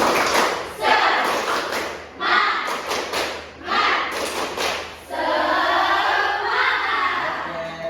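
A college class performs the rhythmic 'tepuk semangat' spirit clap during a lecture on early childhood moral and religious development. Three quick bursts of group clapping and thumping play in a patterned rhythm, followed by a spoken voice.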